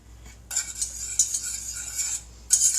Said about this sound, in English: Okay, switching to the whisk.